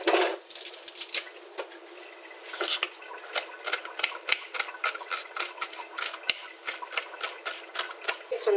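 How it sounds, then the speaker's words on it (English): A knife rapidly chopping cilantro on a cutting board, quick crisp taps in a steady run, close and clear with no talking. "now I'm going to chop up my cilantro."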